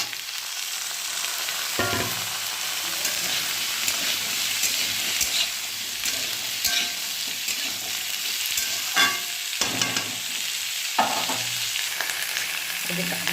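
Vegetables frying in hot oil give a steady, close sizzle and hiss, with short clattering bursts as they are stirred in the pan.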